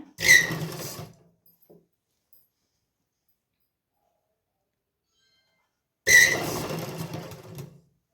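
A sewing machine stitches a fine seam on a suit in two short bursts, each a second or two of quick, close rattling whir with a squeaky edge, separated by a long silence.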